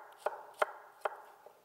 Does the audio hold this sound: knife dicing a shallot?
yes